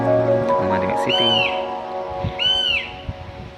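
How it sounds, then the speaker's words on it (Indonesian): Out in the countryside of East Aceh, a bird gives two rising, swooping whistled calls over a steady tonal hum, with faint rustling and knocks between them. "Kita cari suara burung itu di mana."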